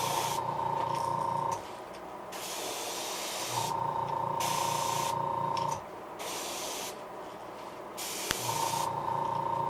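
Heat gun setting paint on a custom Creek Chub fishing lure, a steady loud blowing hiss with a mechanical hum that cuts in and out in long stretches, heard close with no talking.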